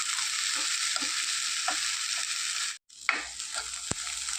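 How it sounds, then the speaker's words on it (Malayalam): Dried prawns dry-fry in a pan while being stirred, giving a steady close sizzle with repeated scraping strokes of the spoon and one brief break partway through. "നന്നായിട്ട് ഫ്രൈ ആയി വരുവോളം നമുക്കൊന്ന് ഇളക്കി കൊടുക്കാം"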